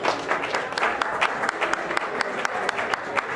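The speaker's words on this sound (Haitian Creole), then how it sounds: "maintenant nous avons applaudissements pour Compas Festival" A small press-conference audience claps for the Compas Festival, with distinct individual claps forming a moderately loud, rhythmic patter that holds steady throughout.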